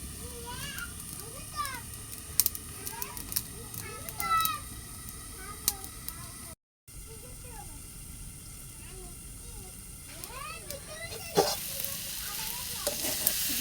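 Chopped banana flower and fig frying in a pan over low heat for a lentil dish, a steady sizzle with stirring scrapes and a brief silent gap partway through, while people talk nearby.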